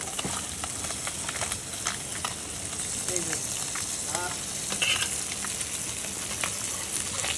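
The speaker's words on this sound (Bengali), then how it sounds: "মাছগুলো সুন্দরভাবে ফেরাই হচ্ছে" Fish sizzling steadily in hot oil while being fried, a dense continuous crackle that stays even throughout with no talk over it.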